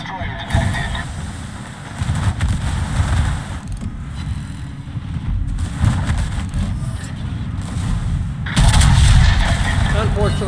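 Warship naval guns firing shells in a video game, heavy booming salvos with rumbling low impacts recurring through the stretch, the loudest blast near the end, under a speaking voice.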